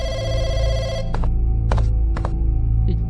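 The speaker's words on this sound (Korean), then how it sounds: "이건 공화마트의 전화." A telephone rings in a Chinese funeral horror video game, a sustained electronic bell tone followed by three short repeated ring bursts over a low droning background.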